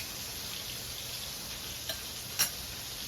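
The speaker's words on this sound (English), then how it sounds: "Once I finish frying the fish, I'll put on the curry" Bangamary fish frying in a pan for curry, a steady bright sizzle that holds at an even level throughout, with a couple of faint ticks or pops near the end and no voices.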